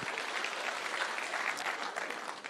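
Lively applause from an audience at a political meeting in Kenya, brisk overlapping claps, fairly close and steady, with a few louder peaks.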